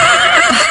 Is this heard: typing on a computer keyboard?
no